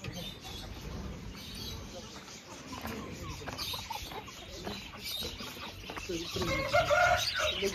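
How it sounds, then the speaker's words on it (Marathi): Fighter roosters at a bird market cluck and crow close by, with overlapping calls over a busy background where people talk, and a louder burst of clucking near the end. "इकडे पण कोंबडे आहेत"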